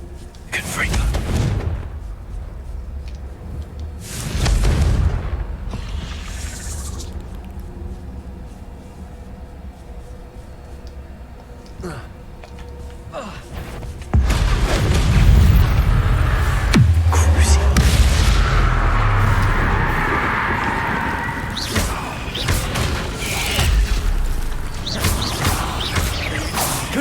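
Confringo blast-curse explosions in a Harry Potter video game, a few deep booming bursts separated by quieter mechanical ambience, one large rumbling blast midway followed by crackling debris, with a voice speaking at points.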